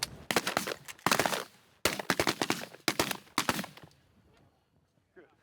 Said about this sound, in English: Good shooting, guys